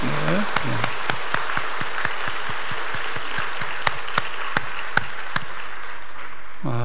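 A church congregation applauds steadily for several seconds, dense clapping with a few sharper individual claps standing out, fairly close and loud.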